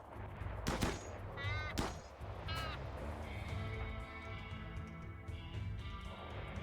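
Gunfire from the colony game RimWorld: two sharp shot cracks in quick succession, then a third, over a steady low rumble and busy game ambience with whistling, warbling tones.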